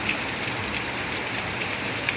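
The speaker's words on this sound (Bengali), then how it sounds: "আর বৃষ্টি হলেই আমার যেন মনে হয় আমি বৃষ্টিকে শুনি" Steady rain falls on a street, a dense, even patter of drops hitting the hard surface throughout, close and continuous with no voices.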